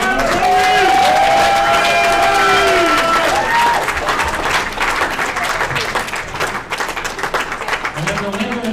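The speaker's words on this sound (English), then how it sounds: "Let's give him a nice round of applause." Audience applause and cheering for the second-place finisher at a pool tournament, the 2017 Chinook Winds Open 8-ball finals: loud sustained clapping that gradually thins, with a voice speaking near the end.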